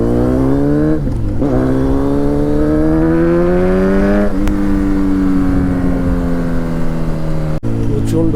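A Kawasaki Z900 superbike engine revs loudly and close up, its pitch climbing, dipping and climbing again in repeated throttle blips, with a brief cut near the end.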